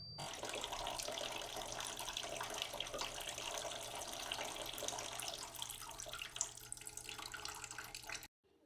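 Water pours steadily into a cooking pot of kulekhara greens, a continuous splashing stream running for several seconds before stopping abruptly, with no talk.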